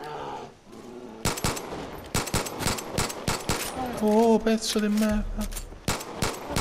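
Rapid gunfire bursts and single shots in the video game Far Cry 5, sharp repeated cracks across most of the clip, with an Italian-speaking player shouting over the shooting.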